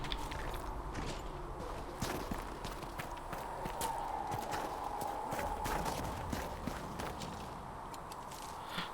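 Horse hooves clip-clop in a video game: quiet, rhythmic hoof clops repeat in a steady walking beat over a soft ambient background, with no talk over them.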